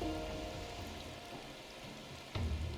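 Rain falls steadily on a beach beside washing waves, a soft continuous hiss of drops with a brief louder burst near the end, no talking heard.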